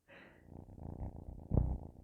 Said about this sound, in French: Je sais pas si vous l'entendez ronronner